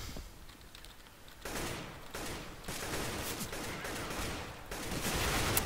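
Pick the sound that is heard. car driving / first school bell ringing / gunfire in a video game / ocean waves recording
gunfire in a video game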